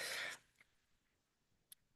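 A single short cough at the start, fairly faint, followed by near silence and a tiny click.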